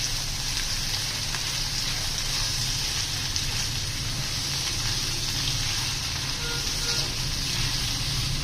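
Onions frying in oil in a karahi for gola kabab gravy, giving a steady, dense sizzle that stays even and close throughout with no voices.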